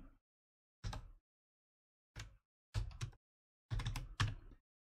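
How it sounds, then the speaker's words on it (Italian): A password is typed on a computer keyboard: a handful of sparse, close keystrokes come singly and in quick pairs with quiet pauses between them, and nobody speaks. "poi digito la password corrispondente"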